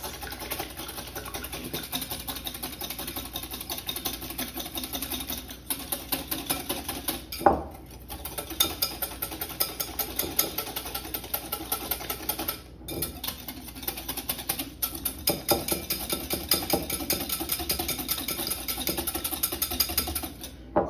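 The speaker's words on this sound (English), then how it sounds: "So I'm gonna go ahead and whisk these by hand to soft peaks." Egg whites are whisked by hand to soft peaks, producing a fast, steady, rhythmic tapping and clattering of a whisk against a bowl that continues throughout, close and moderately loud.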